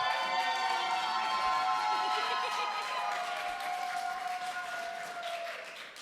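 An indoor audience at a kids-versus-adults Bible quiz show claps and cheers for a contestant in a dense, sustained burst that slowly fades, with a sustained tone sounding over the crowd noise.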